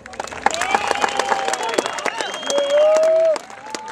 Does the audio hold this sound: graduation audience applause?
yes